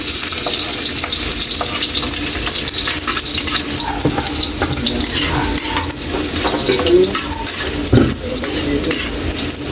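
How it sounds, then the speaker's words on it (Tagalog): Garlic dropped into hot oil for a bitter gourd sauté sizzles loudly and steadily throughout, with occasional spoon scrapes and a clack against the pan. "Mainit na yung mantika natin, ilagay natin yung bawang."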